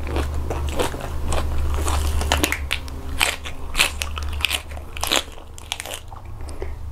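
Close, loud crunching and biting of a crunchy papaya salad with fresh shrimp and blue crab, irregular crisp bites and chewing over a low steady hum, no talk.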